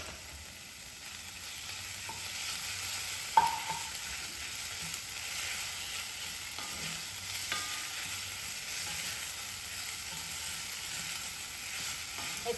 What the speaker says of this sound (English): I'm going to add half a can, and I want to heat that through and